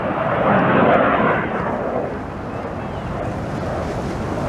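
Along the Blackpool seafront, an airplane passing overhead makes a steady drone that swells then eases, blended with wind buffeting the microphone and surf washing in the background.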